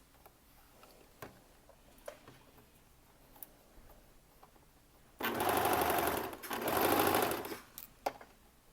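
A home sewing machine stitching a sleeve in the round, two short bursts of steady rapid whirring separated by a brief pause, with faint ticks and handling noises around them in a quiet room.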